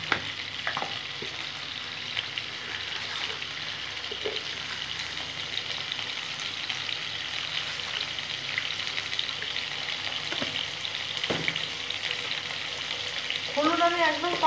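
Potatoes with tomato, salt and a pinch of turmeric frying in a pan, an even, moderate sizzle with occasional soft scrapes and clinks of a spatula.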